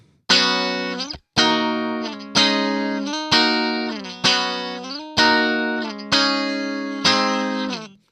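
An 80s-style clean electric guitar tone, close-miked with an SM57 and a Sennheiser 421, plays eight evenly spaced bright chords, each ringing and decaying before the next, with no reverb.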